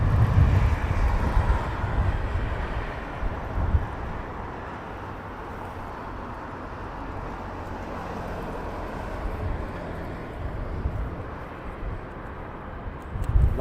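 A British Airways airliner rolls for departure at Heathrow, a steady low engine roar and rumble holding fairly even throughout, swelling slightly at the start and end, heard from some distance with no voices.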